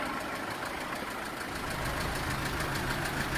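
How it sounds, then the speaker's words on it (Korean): A 2011 Kia Bongo 3 1.2-ton truck engine idles steadily nearby with a low, even rumble and faint rhythmic knocking, with no voices. "엔진 소리는 괜찮고요."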